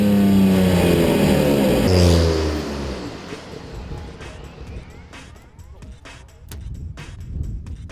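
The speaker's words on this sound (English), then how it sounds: "The acceleration is relentless." Porsche 962 Le Mans race car accelerating hard, a loud close engine roar climbing through the revs, then a sharp gear change and a rougher, quieter rasp with crackles as speed builds.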